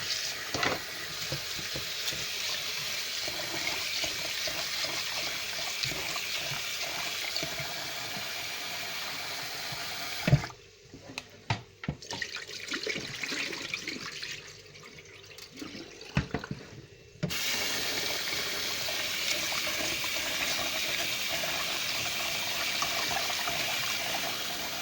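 Steady rushing water from a running tap while washing rice fills most of the clip, briefly dropping out midway before resuming at full strength.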